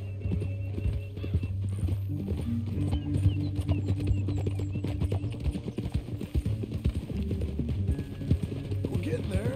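Steady horse hooves clip-clop at a walking pace in Red Dead Redemption, fairly close, over a low droning music bed with occasional voices.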